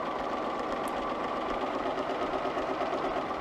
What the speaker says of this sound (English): I'm going to sew to the end of this seam.